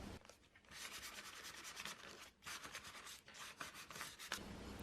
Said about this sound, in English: I'm just going to lighten it up just a little bit with some sandpaper.